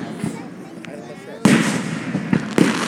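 Fireworks at an outdoor show burst in sharp, loud booms, one around the midpoint and another near the end, with crackling and faint voices between them.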